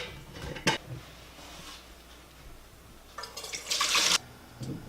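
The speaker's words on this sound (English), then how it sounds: "And then I strain it a second time through this strainer into this 2-quart" Homemade chicken bone broth poured from a pot through a strainer into a 2-quart jar, heard as brief liquid splashes followed by a louder, sustained splashing pour toward the end.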